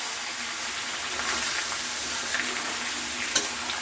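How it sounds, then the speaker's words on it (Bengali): Chicken feet with red spice mix stirred in a hot wok (kadai), giving a dense, continuous close sizzle and bubbling hiss with a faint scrape near the end. "আর এটা কিন্তু আমি ঢেলে দিলাম পুরো কড়ার মধ্যে, ওটা লাল হয়ে যাওয়ার পরই এইভাবে ঢেলে নাড়িয়েও নিচ্ছি।"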